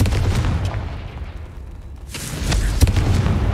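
A Confringo spell from the Hogwarts Legacy video game goes off as a deep, loud booming blast with a rumbling low end, then a second burst and a sharp crack after a brief lull.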